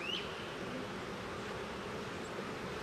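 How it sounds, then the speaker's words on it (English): Honey bees buzz around an open hive in a continuous, moderately loud, even drone, with a brief higher whine near the start and no talking. "Bees are a little bit feisty today."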